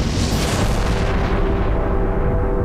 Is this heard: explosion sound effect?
yes